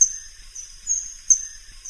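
A small, colorful bird gives high, thin piping notes in short repeated bursts, faint against a quiet background with no other sounds.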